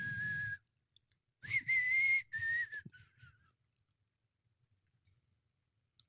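A man whistles a short bar of a song, a thin clear tone in a few phrases with brief gaps and mouth clicks between them, close and fairly quiet.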